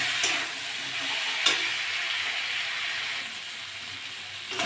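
A spice paste for a tilapia curry with potato and snake gourd is sautéed and stirred in a pan. It makes a moderate, even sizzle and hiss with a few soft stirring knocks.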